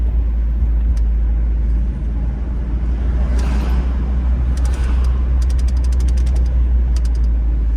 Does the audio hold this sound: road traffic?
yes